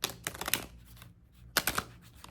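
Tarot cards being shuffled produce two bursts of quick, close riffling clicks separated by a quiet pause, with no speech.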